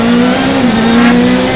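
A Hyundai i20 Coupé WRC Plus rally car with a nearly 400-horsepower engine revs hard, a loud, steady, close engine drone holding its pitch with a slight dip midway, with no talk over it.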